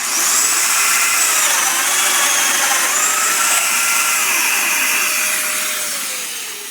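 A Festool Domino XL cuts a mortise into a timber beam, a loud, steady motor whine with a rough cutting roar that holds for several seconds before winding down at the end.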